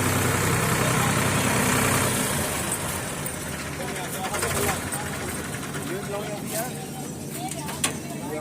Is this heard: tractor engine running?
yes